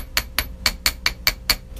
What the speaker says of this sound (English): Then I'm going to flip this the other way, and I'm going to hammer the little legs out.